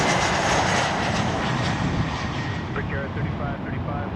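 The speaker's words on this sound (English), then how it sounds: "China Southern, yeah, 777-300" A China Southern Boeing 777-300 jet at Toronto Pearson gives a steady, broad engine rumble throughout, fairly near, with faint tonal whines rising late, and no words spoken over it.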